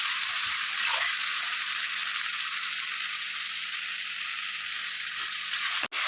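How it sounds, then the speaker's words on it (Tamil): Tomatoes and onions sautéing in hot oil for a dried anchovy thokku, a steady, close, even sizzle that holds throughout with no talk, ending in a brief sharp clatter. "தக்காளி வெங்காயம் எல்லாம் நல்லா இந்த அளவுக்கு வதங்கும்"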